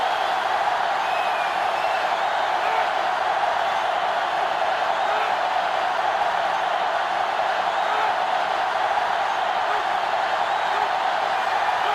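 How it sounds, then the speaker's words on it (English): Crowd noise at a college football game in NCAAF 2005, Michigan versus Ohio State, a steady loud roar of cheering spectators holding a constant level throughout. "So this crowd is making their presence felt."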